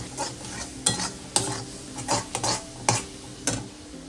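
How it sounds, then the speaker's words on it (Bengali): Fish fries in a pan with a steady sizzle, broken by repeated scraping and clinking strokes of a utensil at irregular intervals, nearby and fairly loud. "তো মাছ ভাজাটা বসিয়ে দিয়েছি"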